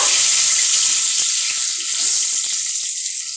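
Cinnamon stick and two bay leaves fry in oil in a pan, giving a steady, loud hiss and sizzle throughout with a few faint clicks.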